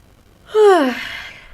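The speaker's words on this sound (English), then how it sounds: "don't mind me yawning" A person yawning once, close by: a breathy voiced sound that slides downward in pitch, then fades into a soft exhale.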